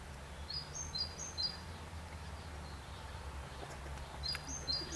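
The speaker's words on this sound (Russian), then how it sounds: "Рядом зеленая травка, поют птички, фазаны." Birds chirping outdoors in a nature reserve, short high twittering phrases at the start and end over a low steady background hum.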